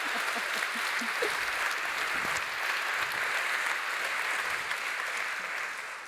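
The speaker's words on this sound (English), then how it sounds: "I just want to give another round of applause to Brian and Jen for joining us today." Audience applause for two guests at a live event, a dense, steady wash of clapping from a large crowd, sustained throughout and easing slightly at the end.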